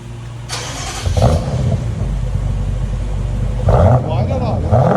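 A BMW 650i 4.4L V8 with straight-pipe exhaust cranks and catches, then roars loudly through a couple of sharp revs, the deep exhaust rumble close and heavy between bursts.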